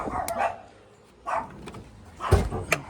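A dog barks a few times at a distance near an abandoned 1980s limousine, single sharp woofs spaced out with quiet gaps between them.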